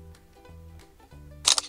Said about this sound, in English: we take a photo by pressing the red shutter button on the top right